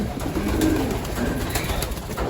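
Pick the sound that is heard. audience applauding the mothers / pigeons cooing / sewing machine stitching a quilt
pigeons cooing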